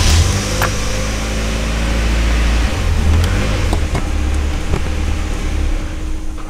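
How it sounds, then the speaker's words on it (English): Turbocharged Mazda Miata fitted with EV14 640cc injectors idling and running steadily, close and loud, with a strong low engine drone and a few sharp clicks, no talk. "We're going to start the car and unplug that."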